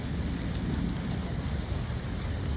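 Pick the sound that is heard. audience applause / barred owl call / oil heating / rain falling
rain falling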